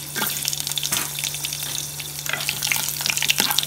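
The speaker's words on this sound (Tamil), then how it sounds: "ஸோ அதனால் கொஞ்சம் மீடியம் ஃப்ளேமில் வச்சு பூண்டு பச்சை மிளகாய் தான் எண்ணெயிலே நல்லா வணக்குங்க" Garlic and green chillies fry in hot oil over a medium flame, giving a steady close sizzle and crackle with brief stirring scrapes and no talking.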